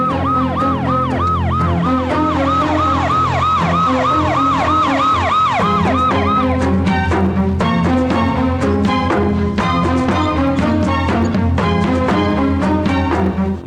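An ambulance siren used as a film sound effect, loud and close, starting as a rapid wailing sweep and then switching to a steady alternating two-tone pattern, with no talk over it.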